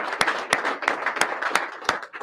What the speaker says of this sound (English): So round of applause for Lynn Williams.